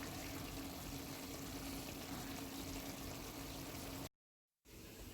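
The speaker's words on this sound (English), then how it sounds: "To this, I'm going to add about 2 cups of water and allow that to continue to boil." Water poured into a pot of seasoned meat already at a boil while cooking Haitian food, a steady close rushing, bubbling wash that runs without a break for about four seconds, then cuts to brief silence before resuming.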